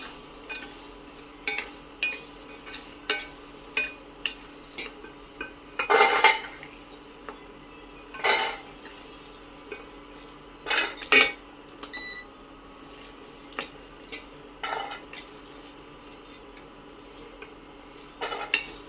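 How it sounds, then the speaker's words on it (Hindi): Roasted makhana (fox nuts) scooped from a pan onto a plate, giving a series of light clinks and scrapes of utensil on cookware with a few sharper clatters, close and alone without talk. "ये मखाने भी मैंने अच्छे से भून लिए हैं। अब मैं इनको भी निकाल लूँगी।"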